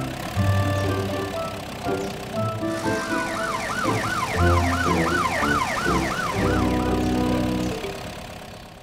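A police car siren in a French children's cartoon about rescue vehicles wails in a loud, repeating rising-and-falling pattern over background music, with a bulldozer also present in the scene.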